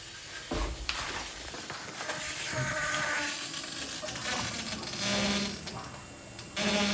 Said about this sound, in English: listen to the sound of this fuel pump